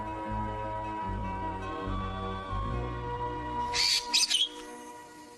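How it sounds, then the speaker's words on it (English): A Bali starling gives loud, clear whistled calls in an Indonesian island forest, several sustained tonal notes followed by a burst of harsh, squawking chatter close by. "The Bali starling."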